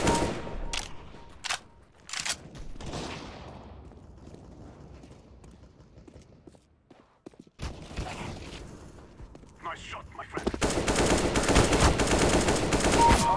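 Counter-Strike: Global Offensive gunfire cracks out in a few sharp single shots, then a quiet stretch, then sustained rapid automatic bursts that grow loud and dense at the end.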